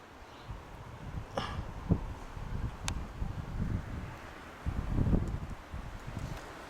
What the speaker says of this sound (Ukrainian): Хороший вітерець такий.